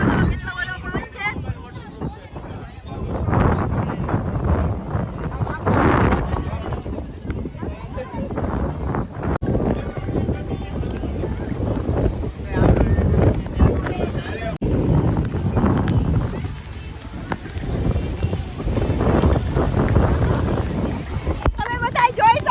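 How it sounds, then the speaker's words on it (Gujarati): Strong gusty wind during a rainstorm near a lake, roaring and buffeting a handheld microphone in loud sustained rushes, with a voice talking over much of it. "તમે જો વરસાદ આવી ગયો છે. તમે જોઈ શકો છો કેટલો બધો પવન છે."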